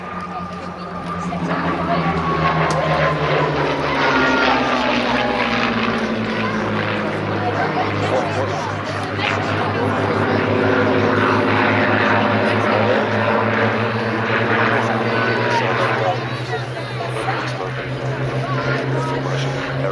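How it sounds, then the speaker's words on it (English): Hispano HA1112 Buchon fighters with Spanish licence-built Rolls-Royce Merlin engines flying past at an air show, a loud droning piston roar that shifts in pitch as they pass, with a commentator's voice heard over the engines. "the Spanish license-built Rolls-Royce Merlin engine version, the Hispano HA1112 Bouchon"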